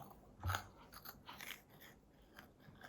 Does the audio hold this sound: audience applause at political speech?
no